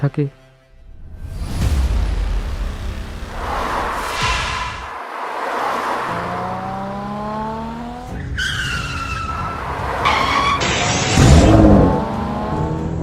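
A car driven fast skids hard, its tyres squealing in long, rising wails while the engine revs loudly and close up, over a continuous roar of motion.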